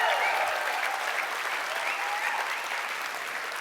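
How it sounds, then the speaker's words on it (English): Audience applause at a convention general session, a steady dense wash of many hands clapping that stays strong throughout and eases only slightly near the end. "Maybe another round of applause for her."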